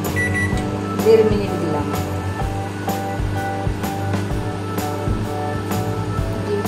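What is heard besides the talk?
microwave oven running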